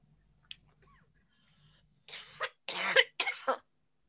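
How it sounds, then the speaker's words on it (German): Several coughs from someone in the audience at a lecture, a quick cluster of three or four dry bursts, fairly close and alone after near silence. "Jetzt höre ich jemanden husten"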